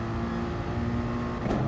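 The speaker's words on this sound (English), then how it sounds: "Brutal noise of them changes on the AMG." A Mercedes-AMG race car drones loudly and steadily under acceleration during a racing final, with a brief shift in engine pitch near the end that suggests a gear change. No one speaks.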